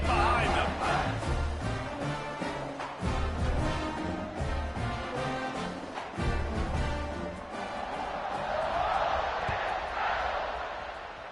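A large crowd roars continuously at a college football stadium just before kickoff, a loud sustained wash of cheering with a commentator speaking over it.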